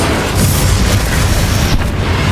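A booming Confringo fire-spell blast from Hogwarts Legacy, a loud, dense explosion that rumbles steadily for about two seconds with a brief dip near the end.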